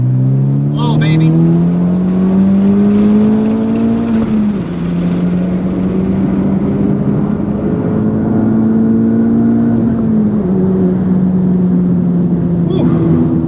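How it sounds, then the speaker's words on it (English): Honda Civic Type R floored from about 2,000 RPM in third gear, a loud in-cabin engine note climbing steadily, dipping briefly at a shift, then climbing again, with faint whistling and talk over it. "I've never floored my car that low in the RPM range before."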